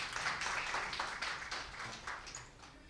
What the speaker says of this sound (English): Let's give her a big round of applause to the wonderful Kajol